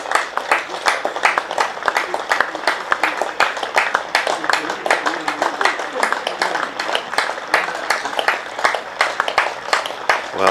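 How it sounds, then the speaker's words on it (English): Essex cricket crowd giving a sustained ovation for a batsman's innings, dense rapid clapping filling the ground evenly for about ten seconds with no pauses. "that's a well-deserved ovation for Shane Snater"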